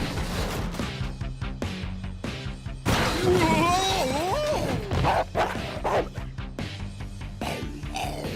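A cartoon monster dog barks and snarls amid crashes and a busy action soundtrack, the loud yelping bursts partly covered by music and effects.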